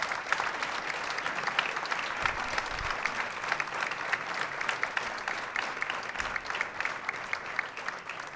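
Sustained applause from a crowd, steady and fairly loud throughout, with dense clapping filling the whole stretch.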